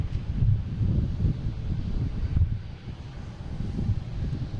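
JetBlue and Porter airliners at Boston Logan airport give off a steady low jet-engine rumble, with wind buffeting the microphone, no voices.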